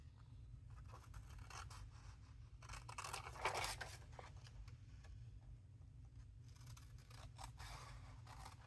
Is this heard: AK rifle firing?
no